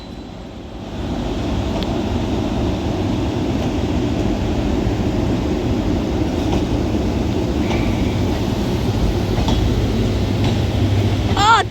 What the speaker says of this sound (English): Getting ready to go now are these double-headed Freightliner Class 90s.